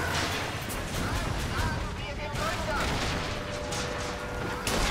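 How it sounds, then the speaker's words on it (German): Sustained gunfire aimed at a cannon in the video game Bioshock Infinite, a dense, loud, continuous barrage of shots and booms throughout, with someone talking over it. "Nimm und hier jetzt weiter auf die Kanone ballern."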